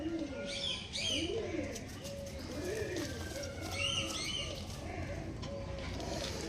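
Selected ringed pigeons coo in rolling, repeated low calls close by, joined by higher chirps and tweets from other birds, with a faint voice now and then.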